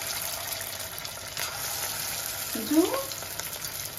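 Marinated chicken pieces for restaurant-style chicken 65 deep-fry in a kadai of hot oil, making a steady, close hiss and sizzle with a brief clink partway through and a faint voice.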